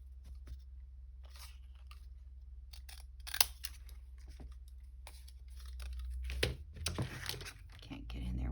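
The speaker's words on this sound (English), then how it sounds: "Can't get in there with those scissors." Scissors snip through paper for a Christmas-themed hinged junk journal. Quiet, close cuts and crinkles come in scattered bursts against a low background hum.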